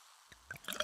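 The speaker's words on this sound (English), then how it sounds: "Listen to that endless pour." Pepsi Zero Sugar cola pouring: near silence breaks into wet fizzing trickles and bubbling splashes that build louder toward the end, close and without talk.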